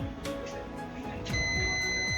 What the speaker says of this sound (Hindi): यहाँ से लेके हमको कनेक्टर तक बीप चेक करनी पड़ेगी